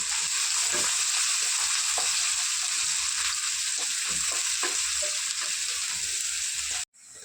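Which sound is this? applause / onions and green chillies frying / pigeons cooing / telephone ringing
onions and green chillies frying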